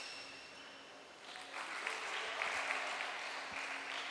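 Applause at a school boys' badminton match in a sports hall, a steady patter of clapping that rises partway through and carries on, mid-distance and moderately faint over the room's ambience.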